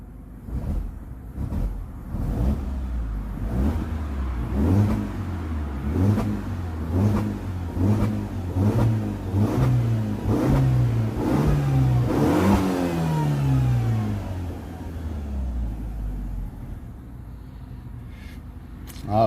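A BMW converted with an ethanol kit revs up and down repeatedly at close range, the engine note rising and falling in steady pulses and juddering roughly as the revs drop back toward idle.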